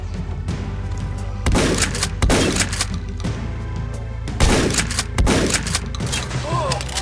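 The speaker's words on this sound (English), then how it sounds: "someone's taking shots at me." Gunfire in the post-apocalyptic shooter Ashes: Afterglow, fought at a wasteland construction site: several sharp, loud shots crack in irregular bursts over a steady low background hum, each blast trailing a short echoing tail.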